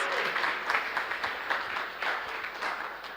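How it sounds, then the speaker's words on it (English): A conference audience at a women in financial markets event applauds steadily, dense clapping filling the room for a few seconds. "Another round of applause for her."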